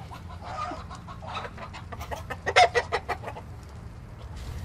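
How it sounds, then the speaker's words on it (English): A pet bantam rooster clucking outdoors, with a quick series of close, sharp clucks peaking midway over a low background hum, then trailing off into quiet. "I have a bandy rooster named Benny."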